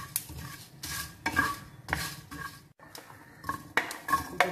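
Whole cinnamon, cloves and cardamom are dry roasted in a pan for street-food dabeli masala, with repeated close scraping and stirring strokes of a utensil against the metal pan, no voices.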